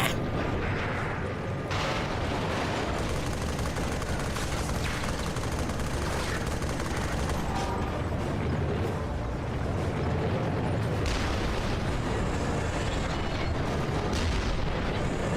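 A tank in Resistance: Fall of Man rumbles along under dense, continuous mechanical noise, with booming cannon shots and gunfire bursting through at intervals, loud and sustained throughout.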